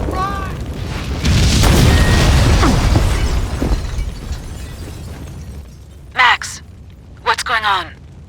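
A building blows up in the video game Max Payne 2 in a loud, sustained roar of blasts and debris that swells early and fades, with shouting voices cutting in near the end.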